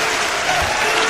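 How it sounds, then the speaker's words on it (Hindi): A crowd claps steadily at a Hindi comedy poetry show, a dense, even roar of hands sustained throughout at moderate loudness, with no voices over it. "ताली ताली जोरदार बजनी चाहिए।"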